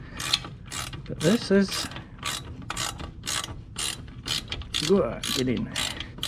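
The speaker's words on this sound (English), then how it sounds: "I just tightened up the 2 clamps" A ratchet tightens the two clamps on a Vance & Hines performance exhaust fitted to a Yamaha SCR 950, giving repeated quick clicking strokes up close, while someone speaks briefly in between.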